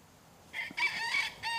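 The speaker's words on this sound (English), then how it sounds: "That's Guido the rooster" A rooster crows once nearby, a short, loud, raspy cock-a-doodle-doo in a few bursts with no voices over it.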